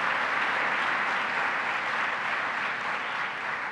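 Sustained applause from an audience at a public event in Onondaga County, a steady dense wash of clapping for the county leader, loud and even throughout with no voices on top.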